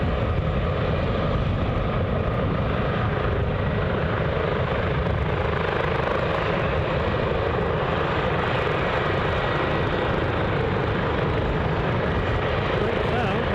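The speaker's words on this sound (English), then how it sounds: "See the chopper lift off." A helicopter lifts off at Glasgow International Airport, its rotor and engine roar loud, dense and steady throughout, with no break in the sound.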